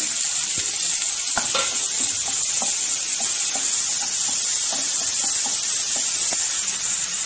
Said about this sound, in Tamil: அதையும் நம்ம இப்போ இதில் சேர்த்துடலாம் சேர்த்து நல்லா வதக்கிடலாம்